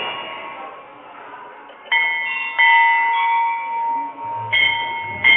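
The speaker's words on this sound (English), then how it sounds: "ring the bell." A metal temple bell at a mother goddess shrine is struck several times, each strike ringing out with a bright sustained tone that overlaps the previous one, loud and close amid faint crowd murmur.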